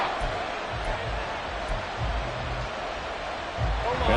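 A USFL football stadium crowd roars as a steady, diffuse wash of noise, with broadcast commentary carrying over it throughout.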